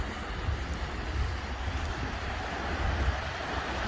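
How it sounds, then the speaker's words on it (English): Ocean surf rolls onto Beau Vallon beach in the Seychelles as a continuous, moderately loud wash of waves, blended with wind buffeting the microphone. "Finally get to touch the ocean now."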